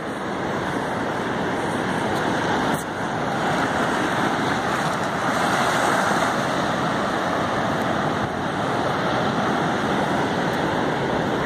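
Heavy sea surf pounding a storm-damaged shoreline at Itapoá during a ressaca, a loud, continuous roar of crashing waves with no talk.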